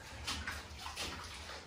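Water sloshes and splashes steadily inside an old 1880s mine, an echoing, close wash of moving water with no voices.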